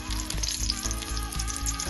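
Bay leaf and whole spices crackle and sizzle in hot ghee in a heated pan, a brief steady frying hiss with soft popping.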